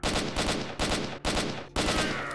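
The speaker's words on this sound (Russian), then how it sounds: "Хотя вроде калаш их кладет," Bursts of AK rifle fire from the STALKER video game crack out in four sustained automatic volleys, loud and close, with short gaps of silence between them.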